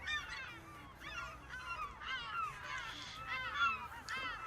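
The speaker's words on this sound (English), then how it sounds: "As soon as I bring the earthworms up, the seagulls all start flying around behind me." Seagulls call in a farming video game with a seagull mod, a flock circling behind a tractor over freshly turned earthworms, with repeated harsh honking cries overlapping close by and continuing steadily.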